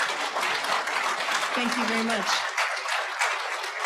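Audience applause at a gathering honouring Tadadaho, a steady broad clatter of clapping that runs throughout, with a voice briefly speaking over it.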